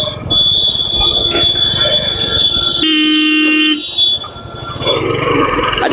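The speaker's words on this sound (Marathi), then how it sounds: "चाललंय काय लोक हॉर्न बिन मारत मला" Vehicle horns blare in busy traffic around a motorbike rider, one long steady horn tone with a second harsher honk cutting in, loud and close over road noise.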